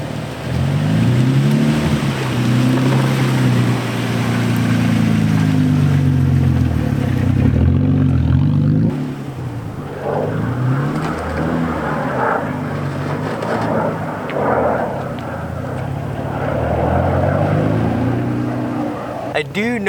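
A lowered car rolls slowly through road dips, its engine droning steadily and loudly, with scrapes and bumps of the suspension, while someone talks over it.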